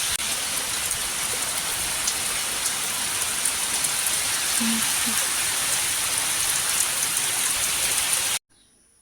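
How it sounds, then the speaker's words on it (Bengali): A heavy monsoon downpour roars as a loud, steady hiss of rain pounding surfaces, continuous for about eight seconds before cutting off abruptly. "এই দেখো প্রচণ্ড বৃষ্টি হচ্ছে"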